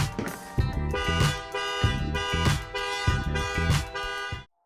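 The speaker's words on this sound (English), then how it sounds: "Opening the door will set off the alarm." A Mercedes car alarm, set off by opening the door, blares loudly in repeating, pulsing horn cycles that continue steadily, then cut off abruptly.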